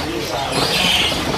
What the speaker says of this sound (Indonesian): Ini burung beo